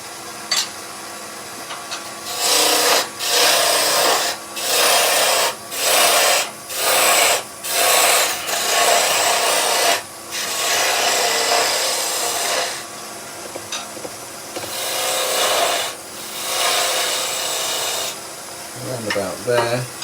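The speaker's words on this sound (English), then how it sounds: "So now we can take away some waste. So I'm going to go with a bowl gouge" A bowl gouge cuts waste from wood spinning on a lathe in bursts of rough, rasping shaving, about a dozen strokes of a second or two each with short pauses between, close and loud.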